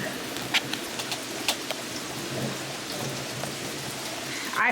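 Steady rain falls during an unexpected thunderstorm, a continuous hiss of drops on surfaces with a few sharper nearby drips and faint bird calls in the background.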